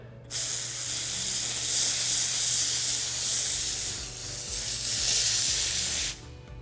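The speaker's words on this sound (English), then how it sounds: "But we are gonna use our steam gun and accelerate it." A loud, continuous hiss of a steam gun spraying to lift grease stains, lasting about six seconds, starting and stopping abruptly, with slight surges in intensity.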